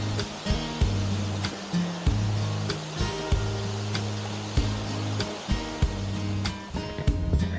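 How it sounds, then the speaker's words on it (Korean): A mountain stream swollen after two days of rain runs beside a rocky Jirisan trail, a continuous broadband rush of water under repeated close footstep thuds. "이틀간 비가 와서 시원한 물소리를 들을 수 있어 너무 좋습니다"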